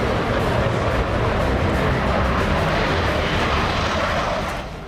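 A Chinese J-16 twin-engine fighter jet roars with a dense, loud, continuous rush of engine noise that holds steady for several seconds before easing slightly at the end.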